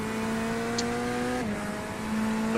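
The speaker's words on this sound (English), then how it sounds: "I would talk when the nice V12 of the Aston Martin comes on display." Loud continuous engine whine of GT3 race cars, including an Aston Martin V12, in a racing game's endurance race at Sebring, holding a high pitch, then dropping sharply as the car shifts before steadying again.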